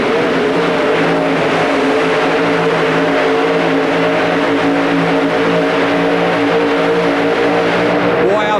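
A Chevrolet 4WD pulling truck from the STP Pulling Team roars at full throttle inside the Pontiac Silverdome during a 1991 truck pull, a loud sustained engine howl with an announcer's voice running underneath.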